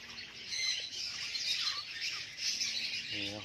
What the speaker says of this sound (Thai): อันนี้เป็นลูกนกลงรังนะครับ